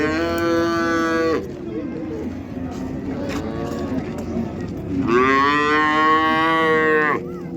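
An ox at the Karshi livestock market lows twice in long, loud, drawn-out moos, with a quieter stretch of market background between them.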